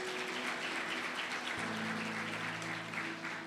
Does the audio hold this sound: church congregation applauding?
yes